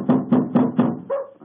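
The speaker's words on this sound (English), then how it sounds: "We must have been knocking here for 5 or 6 minutes." Four evenly spaced knocks on a door, firm and close, followed by a brief muffled thud or voice-like sound.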